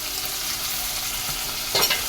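Green pigeon peas (tuvar) tip into a pan of frying chutney, a steady sizzle and stirring that flares into a brief louder hiss near the end, with no talking.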